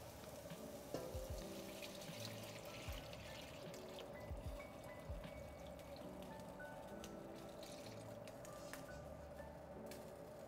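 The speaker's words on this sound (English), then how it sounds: "Now let's go in with a bit of broth." Broth pours into a pot of golden-brown garlic for chicken and dumpling soup, a continuous trickling splash with light sizzling, a few knocks, and no talk.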